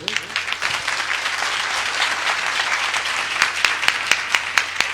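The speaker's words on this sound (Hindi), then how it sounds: "एक अच्छी ताली प्रभु के लिए जोर से" A church congregation gives loud applause to the Lord, thick sustained clapping from many people that thins toward the end into a few sharper individual claps.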